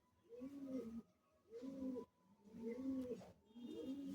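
Several Madrasi pigeons kept for sale coo in repeated low, throaty bursts about a second long, separated by short pauses, fairly close and with no talk over them.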